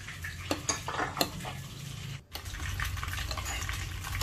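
A spoon stirs a colored agar jelly mixture in a pot, making a few soft clinks and scrapes, a short pause, then a steady swishing stir at close range.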